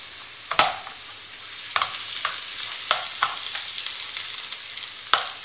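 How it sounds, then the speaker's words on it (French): Ground meat browns in a sauce in a pan with a soft, steady sizzle, punctuated by several crisp scraping taps as a utensil crushes and breaks it up. "Je laisse revenir tout ça en écrasant régulièrement ma viande"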